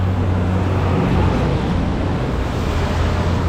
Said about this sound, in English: Such a loud road, such a busy road. There's so many buses and trucks and stuff coming up and down here